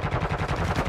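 Rapid automatic gunfire in the video game Warzone 2, a quick burst of evenly spaced shots at moderate loudness lasting under a second.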